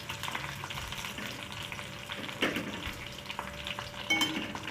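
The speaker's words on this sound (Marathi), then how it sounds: "त्याला तळून घ्यायचं" Ingredients frying in oil in a pan for a homemade hair oil, a steady close sizzle with occasional stirring scrapes and small pops, no voices.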